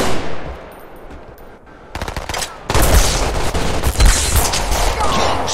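Rapid bursts of pistol fire in the online shooter Halo, crackling in quick repeated volleys that grow louder and denser after a quieter opening stretch.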